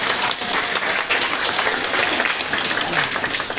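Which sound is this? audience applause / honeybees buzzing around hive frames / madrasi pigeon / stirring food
audience applause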